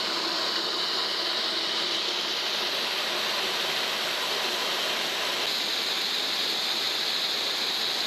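Water rushing out of a pipe below Colley's Dam in Slips Canyon, a continuous, loud, even roar of flowing water that holds steady throughout with no voices.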